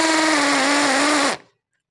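A Nanwei cordless impact drill bores into hard material, a loud, steady high-pitched whine that runs for over a second, then cuts off abruptly into silence.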